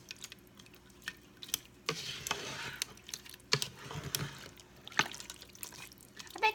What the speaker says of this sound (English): Okay, I'm going to stir everything together.